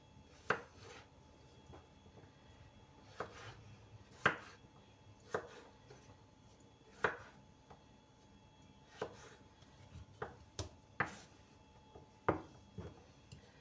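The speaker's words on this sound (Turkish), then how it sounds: "Şöyle küp küp doğrayalım." Sharp knife strikes on a cutting board, irregular and spaced apart, as potatoes are chopped into cubes in a quiet room.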